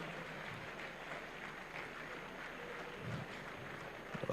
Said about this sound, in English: Keep clapping for him as he comes on stage.